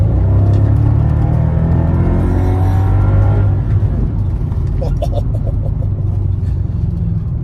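A supercharged Mercedes E55 AMG accelerates hard on a damp country lane, its engine roaring loud and close with a deep, steady rumble that swells through the first half before easing slightly.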